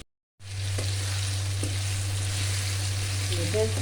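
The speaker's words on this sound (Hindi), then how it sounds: "अब हम इसको अच्छे तरीके से फ्राई कर लेंगे।" Chicken and masala frying in a karahi, a loud, even sizzle that starts abruptly after a moment of silence and continues steadily with a low hum underneath.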